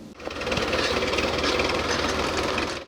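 Tractors preparing a forest plot for new planting, clearing weeds and ploughing: a loud, steady engine rumble with a rapid rhythmic knocking throbbing constantly throughout, close by and without voices.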